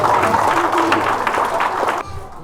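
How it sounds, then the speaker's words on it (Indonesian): A church congregation at an anniversary service in Wamena claps for the Mapenduma children, a loud crowded burst of applause with voices that stops abruptly. "Kita tepuk tangan untuk anak-anak Mapenduma."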